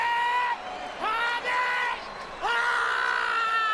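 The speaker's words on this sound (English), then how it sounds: "The famous Dragon Ball scream." A UFC fighter lets out a Dragon Ball-style scream in the arena, several long, loud, strained yells with rising pitch, separated by short pauses over crowd noise.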